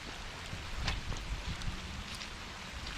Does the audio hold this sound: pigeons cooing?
no